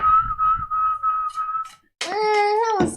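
A person whistles in imitation of a bird call: a thin sustained tone with slight wavering, a brief pause, then a louder, fuller whistled note ending in a sharp drop.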